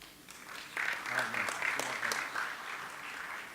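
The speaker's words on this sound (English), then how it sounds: "Let's give a round of applause for Mayor Plasquelec." Audience applause for a mayor introduced to moderate a panel, a steady crowd clapping that swells after a quiet start and holds at moderate loudness, with some talk mixed in.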